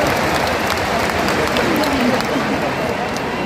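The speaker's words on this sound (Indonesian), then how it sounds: "Tepuk tangan untuk semua yang memilih hadir di sini." A large crowd at a political speech claps and cheers in a steady, loud, dense wash of applause, with voices mixed into the noise.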